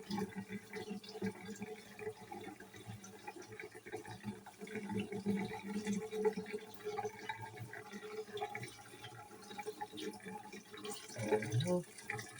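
Water runs steadily from a tap while two pineapples are washed, making a moderate, continuous splashing close by with no talk.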